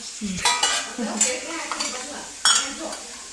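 Utensil scraping and stirring pasta coated in sauce in a home pan, a few clattering strokes against the metal with a soft sizzle beneath, close and fairly loud.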